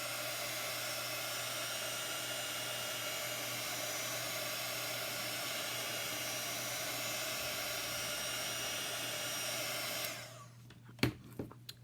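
A handheld heat tool blows steadily on a chalk paste stencil for a Halloween tiered tray, a loud continuous whoosh for about ten seconds before it cuts off, followed by a few faint taps.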